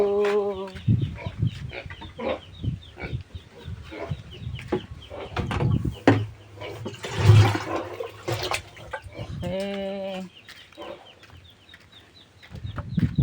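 Farm ducks splashing and dabbling at their muddy water on a hot day, with water pouring and sloshing, brief nasal calls at the start and near the end, and scattered splashes throughout.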